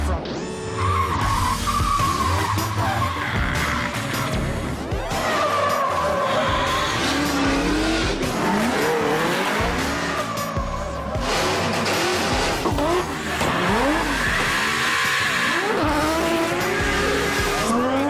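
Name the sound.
cars drifting with squealing tires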